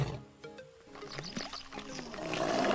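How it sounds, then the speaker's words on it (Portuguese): Victory roar of a male lion in the Wild Savannah video game after bringing down a giraffe, a rough, rising roar swelling louder over a few seconds amid layered game sounds. "Rugido da vitória."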